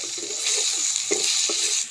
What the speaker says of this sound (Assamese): পিঁয়াজখিনি ৰঙা হোৱাৰ পিছত এতিয়া এয়া মছলা দিয়া হৈছে